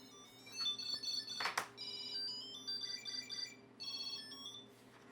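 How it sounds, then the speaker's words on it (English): A smartphone ringtone set off remotely by a Tile Pro Bluetooth tracker plays a bright, repeating melodic chime close by, with a sharp clattering handling noise partway through and no talking. "if I find my tile but I can't find my phone, I can double press this, and now my phone's going off"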